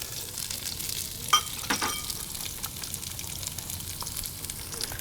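Diced white onion and celery fry in olive oil in a Dutch oven, a steady soft sizzle with a brief clink and a few stirring scrapes near the start, close and without talk.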